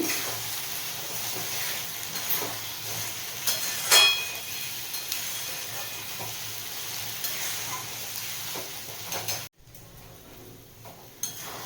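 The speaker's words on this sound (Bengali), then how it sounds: "এবার গ্যাসটা ফুল করে নাড়াতে থাকবো জলটা যতক্ষণ শুকিয়ে যায় ততক্ষণ অবধি" Mashed pointed gourd bharta is stirred in a pan over a full gas flame, giving a steady close sizzle and hiss with the scrape of a spatula and an occasional clink of the pan.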